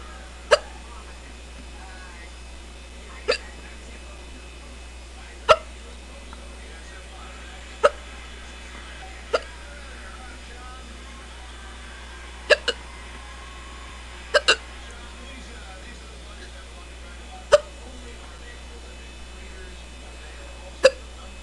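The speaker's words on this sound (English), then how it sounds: "I don't think there's anything I can do to stop these hiccups." Repeated sharp hiccups from a woman, roughly every two to three seconds with a quick double near the middle, close and distinct against a quiet room with a low electrical hum.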